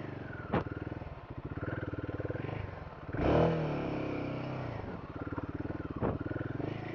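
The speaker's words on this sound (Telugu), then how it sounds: "కరిష్మా బైక్ వచ్చింది." A Hero Karizma motorcycle rides past on a road: a steady engine drone, then a louder roaring swell as the bike passes close by about midway, followed by a fading hum.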